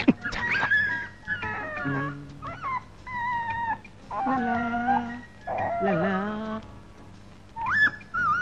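A voice imitates a puppy's whimpering in a comedy scene, with a series of wavering, whiny cries and short yelps separated by brief pauses, loud and close.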